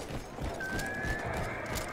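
A horse whinnies briefly over a rumbling Battlefield 1 battle soundscape, with faint hoof clatter and background noise throughout.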